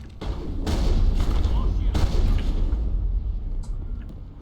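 Machine gun fire in the video game Mass Effect, loud booming bursts with heavy thuds and a rumbling low end that stays dense and sustained, then thins out toward the end.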